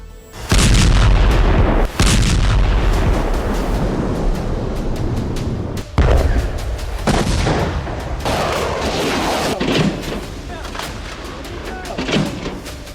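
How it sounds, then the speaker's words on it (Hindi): Russian phosphorus bombs strike during an attack on Kherson, giving several heavy, loud blasts with rolling rumble and crackling debris between them, up close. "ये रूस का फॉस्फोरस बम है जो बेहद घातक है"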